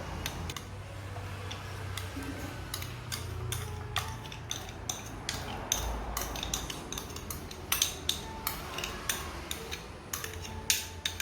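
Caramel cake batter with margarine being stirred in a bowl, heard as close, irregular clicking and tapping of a utensil, growing into sharper repeated knocks toward the end.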